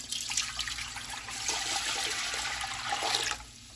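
Distilled vinegar and water are poured into a large pan, making a steady liquid rush at close range for about three seconds before it stops abruptly.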